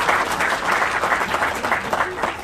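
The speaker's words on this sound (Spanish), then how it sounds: "Yo les pido un aplauso para el maestro." An audience applauds a speaker at an anniversary event of a higher-studies centre, with dense, steady clapping that holds close and even throughout.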